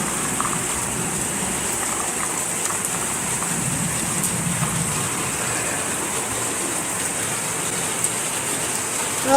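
Rain falls steadily on a roof overhead, a close, even patter with scattered individual drips and taps, continuous and calm with no talk.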